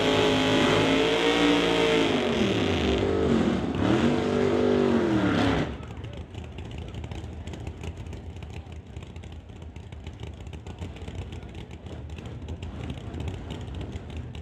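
A 1977 AMC Pacer drag race car revs loud and close at a drag strip event, its engine note rising and falling in strong harmonic sweeps for several seconds before cutting to a lower, rougher background rumble.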